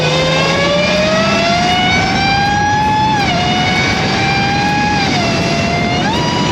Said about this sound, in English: You have this supercharger that has this nasty whine.